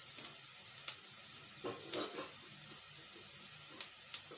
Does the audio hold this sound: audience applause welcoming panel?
no